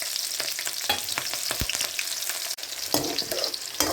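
Shallots and green chilies hiss and crackle in hot oil tempered with mustard seeds for a garlic curry, a close, steady sizzle broken by stirring scrapes and small pops.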